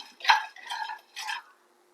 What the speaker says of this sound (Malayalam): കടല നല്ലോണം ഇതെല്ലാം ചുവപ്പാകുന്ന വരെ ഒന്ന് വറുത്ത് കൊടുക്കുക.